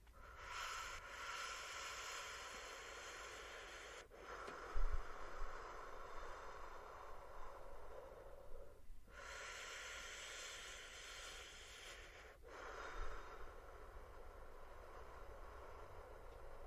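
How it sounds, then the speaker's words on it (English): Slow, deep breathing exercise with long airy inhales and exhales, each breath a soft sustained hiss lasting several seconds, close and quiet with no talking. "very deep breathing"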